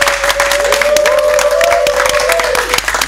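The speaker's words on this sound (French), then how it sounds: "Merci, mesdames et messieurs, on applaudit très fort," An audience applauds loudly in the grand hall of the Casino de Paris after a concert, a dense, continuous wash of clapping with a sustained musical tone or voice ringing above it.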